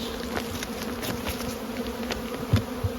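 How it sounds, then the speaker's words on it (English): Honeybees fly in and out at the bottom entrance of a hive, making a steady, close insect hum with a few louder buzzes as single bees pass near. "Bees coming in and out of the bottom"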